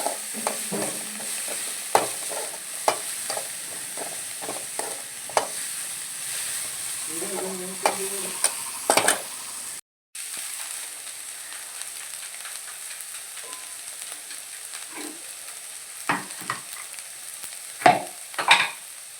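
Garlic and small shallots frying in a pan for a homestyle eggplant curry, a steady close sizzle with scattered stirring scrapes and clinks, a brief dropout near the middle, no talk.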